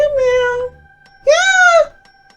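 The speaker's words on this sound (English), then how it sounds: "Meow meow." A cat meows twice in Monster Girl Quest Paradox, two loud, clear, drawn-out cries separated by a short pause.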